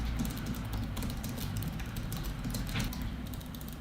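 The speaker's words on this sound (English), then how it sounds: "now the same sentence typed on my old keyboard" Continuous typing on a keyboard, a brisk run of close, clacky keystrokes at an even pace with no speech.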